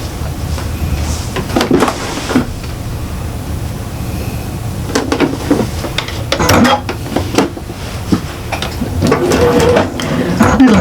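A sewing machine stitches a fabric bag tidy with irregular mechanical clatter, short bursts of motor whirr and clicks, and handling knocks, under occasional speech.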